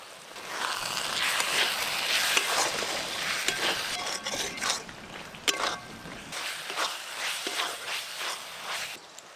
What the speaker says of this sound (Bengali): আদা রসুন পেঁয়াজ ভাজা ভাজা হয়ে গেছে, দিয়ে দেব মশলার পেস্ট, টমেটো কুচিও দিয়ে দেব